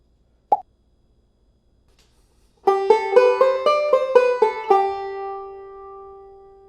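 After a single soft pop and a pause, a banjo plays a quick melodic-style eight-note roll arpeggio, bright plucked notes ringing in a steady cascade that ends on a sustained chord fading out.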